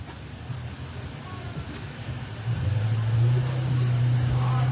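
A Ford Mustang idles down a drag strip on a bye run at Darlington Dragway, giving a low engine hum that swells louder and nearer halfway through.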